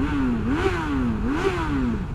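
Suzuki Bandit 650 GSF motorcycle engine revs up and down twice, a close, steady mechanical drone rising and falling in pitch with no talk over it.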